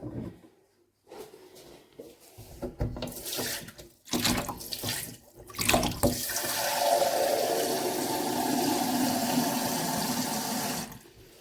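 A kitchen tap is turned on and water gushes steadily into a sink or bowl, preceded by a few handling knocks and clatters, the flow loud and close for several seconds before shutting off.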